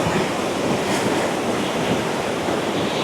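Rushing river water at a trek crossing on the Pindari Glacier trail in Uttarakhand, a steady, dense roar of flowing water that holds loud and unbroken throughout, with no voices.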